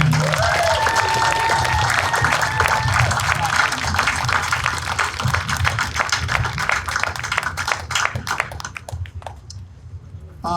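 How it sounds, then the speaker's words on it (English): An outdoor audience applauds a high school band at a town's sesquicentennial bandstand concert, steady dense clapping that thins out and fades toward the end. "Let's give another round of applause to Mr. Stuart Neal and the Whitehall High Schoo"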